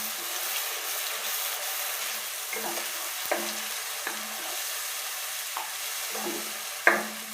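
Onion-tomato gravy for dum aloo is stirred in a pan, a soft sizzle underneath repeated scraping strokes of a spoon at an uneven rhythm, close and without talk.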